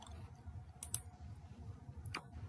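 A computer mouse gives two quick soft clicks, then another pair a moment later, close and faint over a quiet low hum while setting up a virtual machine; no speech.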